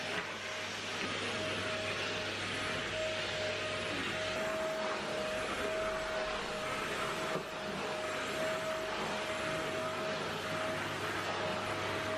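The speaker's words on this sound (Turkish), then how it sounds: "bir odalara süpürge tutayım." A steady whirring vacuum cleaner drones on without pause, a constant motor hum with a faint high whine running through it.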